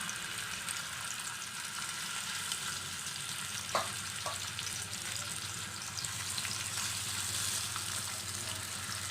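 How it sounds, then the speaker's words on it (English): Fish frying in oil in a pan over a medium flame, giving a steady, soft, even sizzle throughout, with a couple of brief clinks partway through. "Keep it in medium flame and cook this fish."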